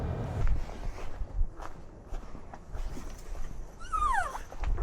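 A dog whimpers and yips faintly nearby amid soft footsteps and outdoor rustling, with a brief high whine near the end.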